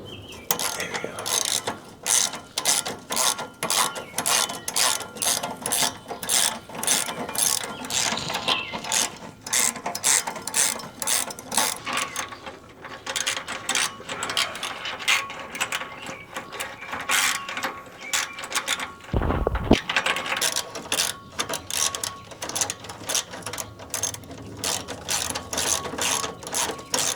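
Ratcheting wrench working bolts loose from an exhaust pipe harness on a Ford S650 Mustang H-pipe install, a steady run of close, rapid clicks in bursts, broken once by a brief low thump near the end.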